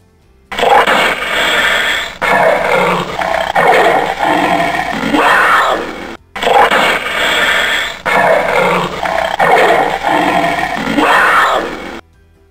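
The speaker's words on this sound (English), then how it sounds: "Panther." A panther roars in two long, loud, gravelly bursts, each lasting several seconds and separated by a brief pause, with the pair repeating close up and alone.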